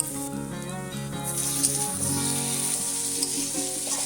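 Garlic paste, fried potatoes and chopped tomato frying together for a Bengali-style mutton curry, a steady hissing sizzle with a faint tonal hum in the background and light stirring, close.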